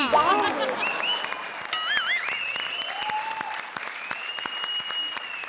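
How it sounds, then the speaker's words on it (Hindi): A studio audience at a comedy show breaks into applause, steady clapping from a crowd with shouts and cheers over it, strongest at the start and continuing throughout. "जरा जोरदार तालियां"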